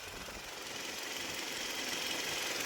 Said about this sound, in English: and the engine is also vibrating.